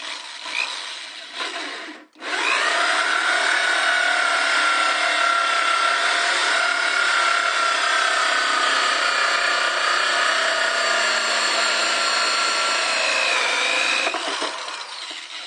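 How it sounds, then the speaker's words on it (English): A power drill grinds steadily through a plastic bucket for several seconds after a brief pause, loud and close, with a sustained whining, rasping tone. "now I'm going to go ahead and drill the air outlet"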